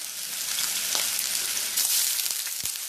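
A couple of handfuls of onions fry in hot oil for a BIR-style bhuna curry, a steady loud sizzle with a few faint clicks and scrapes on top, and no talking.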